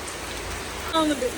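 Steady rain patters in a continuous hiss throughout, with a brief voice-like tone rising over it near the end.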